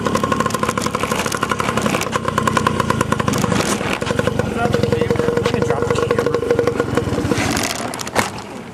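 A dirt bike engine runs close by with a rapid, throbbing putter and uneven clattering revs. Muffled talking sits under it, and the engine fades and sputters near the end.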